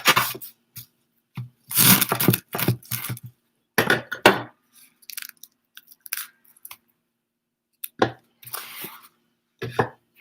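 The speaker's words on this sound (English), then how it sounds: "I'm going to chop that up and put that in there." A knife chopping fresh cilantro and parsley on a board, with bursts of quick close taps in clusters separated by pauses.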